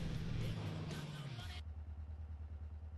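A motorbike engine in GTA San Andreas revs loudly and steadily up close, then drops to a low, even idle.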